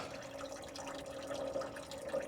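Water drains steadily from a diesel fuel water separator under equipment, a faint, continuous trickle and gurgle with soft drips and no talking.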